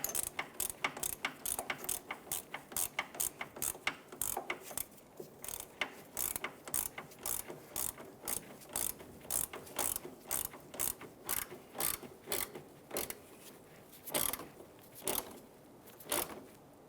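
A ratchet clicks in a fast, steady run of sharp pawl ticks, pausing briefly and resuming as an inner tie rod is snugged down on a 1999-2004 Jeep Grand Cherokee, close and with no voices.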